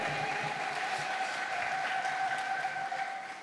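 Worshippers at a church healing service ulalate in praise, a dense, sustained trilling chorus of many voices that holds steady throughout and slightly tapers at the end.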